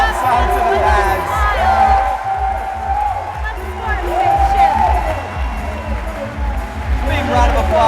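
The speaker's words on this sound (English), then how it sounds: "Big round of applause from the crowd." Crowd at a climbing competition breaks into sustained applause and cheering after a climber flops onto the pads, dense clapping with whoops throughout, loud and close with a commentator talking over it.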